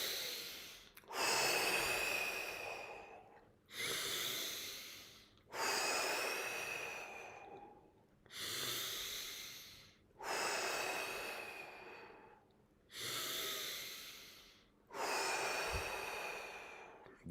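Deep breaths during a Tummo breathing exercise, seven long rhythmic cycles of forceful inhale and exhale, close and loud with short pauses between them.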